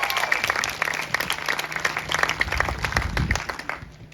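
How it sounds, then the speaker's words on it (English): Sustained audience applause at an elementary school Blue Ribbon ceremony, many hands clapping steadily throughout with a brief swell near the end, fairly close and loud. "let's have a round of applause for our event"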